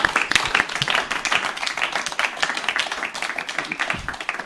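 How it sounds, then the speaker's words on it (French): Audience at a youth peace ambassadors ceremony clapping, a continuous burst of close, dense applause with a voice faintly underneath. "Vos applaudissements ne sont pas à la hauteur de ce qu'on vient de lire pour encourager."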